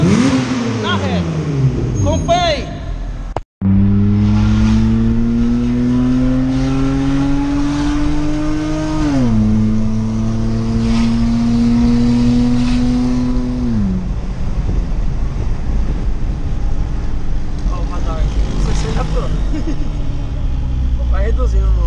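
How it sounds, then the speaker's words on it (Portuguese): Hyundai Veracruz V6 (270 hp) with a stainless steel exhaust and diffuser accelerating down a straight, the engine note climbing loudly through gears with shifts and a deep throaty roar; people talk throughout. "Agora a gente vai fazer um vídeo dando uma acelerada na reta."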